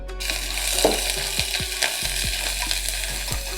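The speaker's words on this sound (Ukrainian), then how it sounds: "Починаємо зі смаження цибулі та чесника." Onion and garlic fry in oil with a steady crackling sizzle, broken by several sharp clicks of a utensil stirring in the pan.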